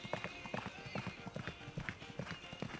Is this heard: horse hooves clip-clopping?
yes